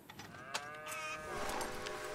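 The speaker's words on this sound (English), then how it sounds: "Dang, cow." A cow in the Red Dead Redemption 2 video game lets out a long, drawn-out moo, rising and sustained for about two seconds, fairly close and clear over quiet game ambience.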